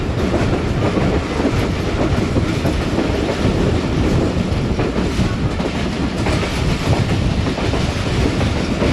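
Rehman Baba Express train running through a small railway station, with a steady loud roar and continuous clickety-clack of wheels on rails, close and unbroken throughout.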